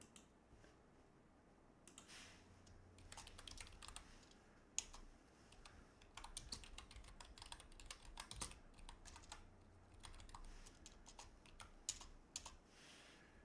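Rapid, continuous typing on a computer keyboard during a gaming stream, with dense clicky keystrokes and occasional sharper taps, close but quiet and with no talking over it.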